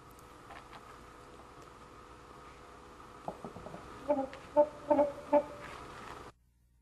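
A live chicken clucks several times in short, close bursts, starting faint and growing louder, against a quiet background.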